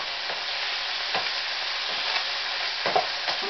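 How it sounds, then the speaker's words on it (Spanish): Meat sautéing over high heat, a continuous muffled sizzle with a few soft stirring scrapes spaced irregularly, moderately close, no voices. "Vamos a sofreír primero nuestra carne. Por supuesto, a fuego high, a fuego alto"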